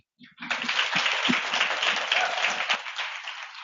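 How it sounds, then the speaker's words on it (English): Audience at a Data Driven Women tech meetup hosted at a company office breaks into applause, a dense wash of clapping that rises quickly and holds steady for a few seconds before thinning slightly, with a faint murmur of voices underneath. "with a round of applause to thank them for hosting us tonight"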